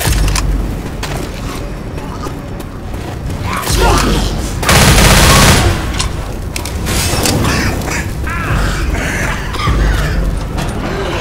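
Video game combat with a grenade explosion and gunfire: bursts of rapid shots and a heavy boom midway, loud and chaotic throughout, with voices in the mix.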